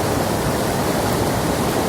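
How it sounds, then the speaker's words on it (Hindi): A monsoon-swollen waterfall and stream in the mountains rush with a steady, dense roar, close and loud with no breaks and no voices. "एक बहुत ही सुंदर वाटरफॉल, एक स्ट्रीम मुझे दिखी।"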